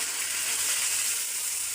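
Ground spice paste frying in hot oil for a fish curry: a close, steady, hissing sizzle that runs unbroken and fairly loud, with no voices.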